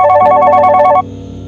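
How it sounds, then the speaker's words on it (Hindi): A telephone rings once, a loud bright electronic trill lasting about a second, then cuts off leaving a low hum. "फोन अपने आप बजने लगा"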